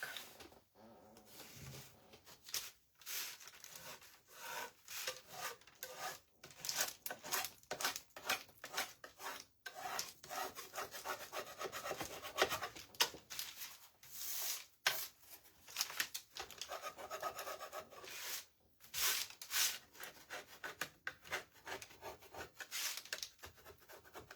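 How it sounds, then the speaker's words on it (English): A hand scraper rasps over a painted wooden bunny, chipping paint off in quick, close, uneven scraping strokes with brief pauses, loud and steady throughout with no talk. "I'm going to go around with the scraper and I'm going to give it that chippy look."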